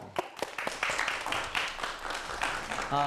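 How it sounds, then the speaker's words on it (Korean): Brief applause from an audience welcoming a university professor to the stage for a lecture, a short burst of scattered clapping of moderate loudness. "자, 박수로 청해 보도록 하겠습니다."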